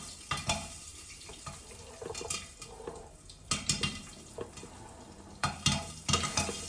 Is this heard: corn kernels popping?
yes